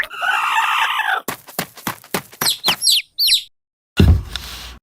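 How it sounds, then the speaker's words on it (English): Sound effects for a miniature farm diorama: a rapid run of short clucks and a few high chirping squawks from a chicken, close and loud, then a brief pause before a sharp noisy burst at the end. "Chicken."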